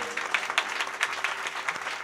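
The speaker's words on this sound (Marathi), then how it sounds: "एकदा या कार्यकर्ते मंडळींसाठी जोरदार टाळ्या झाल्या पाहिजेत" Villagers in the crowd at a kirtan gathering clap for the event organisers, a brief burst of moderately loud, slightly distant applause with overlapping hand claps.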